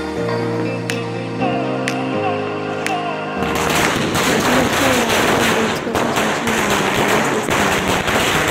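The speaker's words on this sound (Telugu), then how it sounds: "మా మమ్మీకి క్రాకర్స్ అంటే ఫుల్ భయం, బట్ మా డాడీ తీసుకొచ్చి కాలిపిస్తున్నారు" Diwali firecrackers set off at a family home burst into a dense, continuous crackling and popping roar after a few seconds of quieter tones, loud and close with rapid overlapping bangs.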